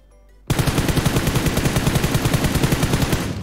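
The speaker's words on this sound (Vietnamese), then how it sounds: "Đây có tiếng súng ở đây này. Vậy là bọn này nó vẫn bắn ở trong khu." Automatic gunfire in the shooter game PUBG Mobile bursts in abruptly after a brief quiet moment, then rattles on as a steady, rapid string of loud, evenly spaced shots.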